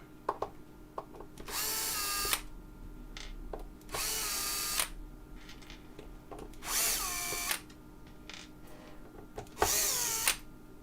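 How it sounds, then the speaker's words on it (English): A power screwdriver drives screws into an amplifier in four separate whirring bursts of a couple of seconds each, close and fairly loud, with small clicks and handling noise between them and no talking. "Let's do some screws here."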